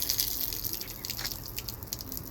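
Water running from a left-open tap in a public place, a steady faint hiss and trickle with soft drips throughout, no one speaking.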